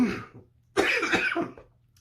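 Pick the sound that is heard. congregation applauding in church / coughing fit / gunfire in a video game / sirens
coughing fit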